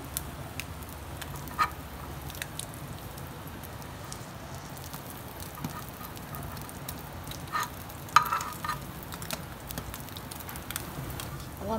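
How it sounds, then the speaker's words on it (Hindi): French toast sizzling gently in a pan over a low flame, shallow-fried to a light golden colour, a steady soft crackle with occasional sharper pops throughout. "साइड से भी इसको कलर देंगे लाइट जो गोल्डन से इसको फ्राई करेंगे"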